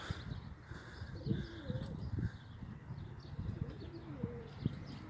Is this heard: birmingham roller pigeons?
yes